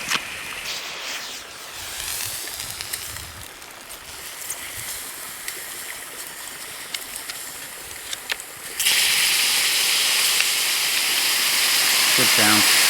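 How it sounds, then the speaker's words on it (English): Ramen water in a hollowed cactus heated by hot rocks, hissing and steaming loudly up close, the hiss jumping sharply in strength partway through, with a voice speaking briefly. "we'll bring that up to a boil"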